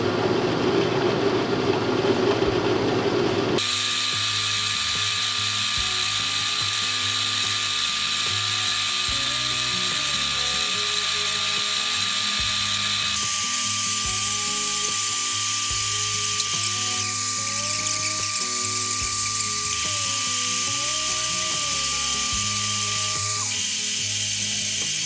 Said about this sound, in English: I'm gonna use this ball end mill bit to start the hole